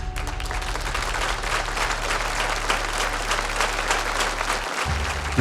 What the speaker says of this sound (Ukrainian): Прям не хочеться зупиняти ці оплески